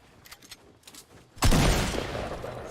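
Gunfire in the video game Fortnite: a sudden loud burst of shots lands mid-clip after faint ticking, then rolls into a sustained noisy blast and decay.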